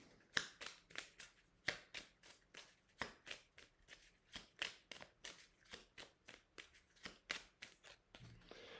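Tarot cards being shuffled by hand in a quiet room: a long run of crisp, regular riffling snaps, roughly two to three per second, close and clear with no talking.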